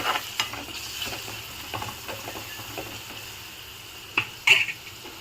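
Carrots with turmeric being stirred in a pan for carrot rice: a spatula scrapes and taps irregularly over a faint background sizzle, with a couple of louder clinks near the end.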